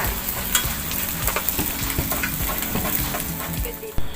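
An egg sizzles steadily in a hot pan, sticking to it, while a utensil scrapes and stirs it, with no talking.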